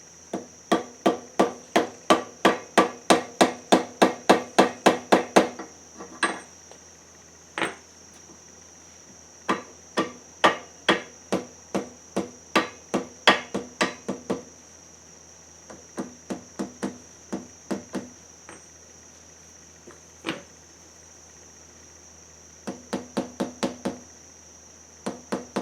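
A socket is tapped against metal while working on a 1974 Suzuki TC 125 engine, making rapid bursts of sharp metallic knocks in fast rhythmic runs with brief pauses, close and loud, with no talking.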